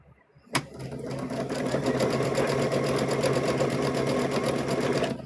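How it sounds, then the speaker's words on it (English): After a sharp click, a sewing machine starts and hums along without a break, stitching down the back seam of a stuffed bear at a steady, fast rhythm, close and loud. "we're going to stitch down, leave an opening, and then stitch all the way down"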